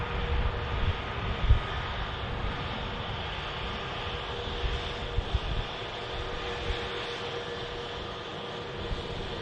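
An EasyJet airliner arriving from Innsbruck at Manchester Airport makes a steady, broad jet roar that holds evenly throughout, loud and fairly close, with low rumbling gusts underneath.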